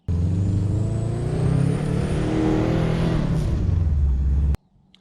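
A Subaru WRX with a struggling turbo climbs a hill toward the mountains, heard from inside as a loud, steady engine drone with a faint rising whine, which cuts off abruptly near the end.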